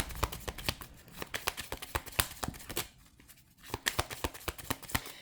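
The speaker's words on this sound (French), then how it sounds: "On peut prendre une deuxième carte, évidemment." Tarot cards being shuffled and drawn: a quick run of crisp riffling flicks and papery slaps, close and fairly soft, pausing briefly midway before more shuffling resumes.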